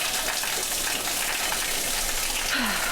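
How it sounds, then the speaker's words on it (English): Steady heavy rain pours down in June, a dense, even wash of hiss that fills the whole stretch without pause and stays loud throughout. "I can't do anything with that if it's pouring down rain right now"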